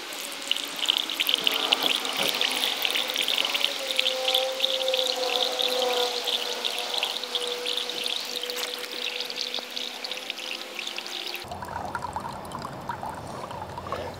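Water from a ram pump lifted to a second-story roof line runs steadily into cups during a flow test, a continuous splashing trickle that stops abruptly near the end.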